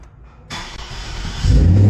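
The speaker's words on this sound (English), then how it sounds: "start the car too." A 2016 Cadillac XLR engine starts with a second programmed smart key: a short crank sound, then the engine catches and builds to a loud, steady rumble nearby.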